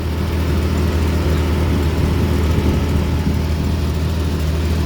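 A junkyard Jeep engine runs steadily with a loud, constant low rumble, close by and alone while the stuck Jeep is being moved.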